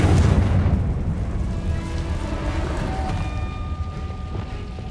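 A Confringo fire spell explodes in the video game Hogwarts Legacy: a loud, heavy boom at the start, then a deep rumbling tail that slowly fades, with faint tonal game ambience underneath.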